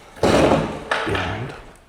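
A stool is set down and wedged behind a closed door during a ghost hunt, giving two close, solid thuds about half a second apart, each trailing off into a short scrape.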